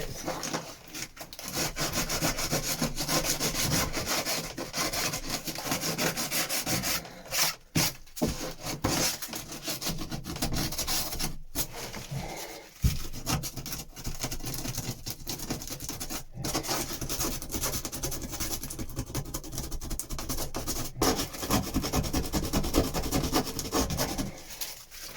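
A wooden surface on a Shetland boat restoration project is scuffed with continuous, close, rasping strokes for about 25 seconds, pausing only briefly a few times.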